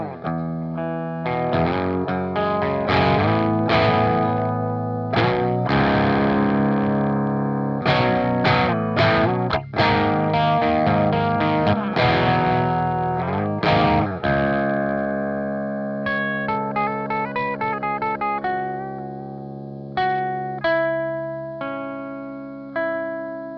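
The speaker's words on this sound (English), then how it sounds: "very nice overdriven tone when we don't have too much gain on it" Electric guitar runs through a Marshall JVM overdrive and distortion pedal set to lower gain, a mildly overdriven tone playing strummed chords and then picked single-note runs. The notes ring and decay clearly, with no talk.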